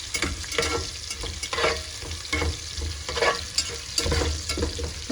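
Ginger garlic paste and potatoes frying in a pan with steady, close sizzling and repeated stirring scrapes, fairly loud and with no voices.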